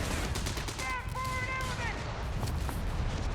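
Artillery barrage in the video game Company of Heroes 3, with a dense continuous rumble of blasts and gunfire under a brief tonal sound effect, steady and fairly loud throughout.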